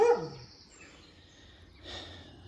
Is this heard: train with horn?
no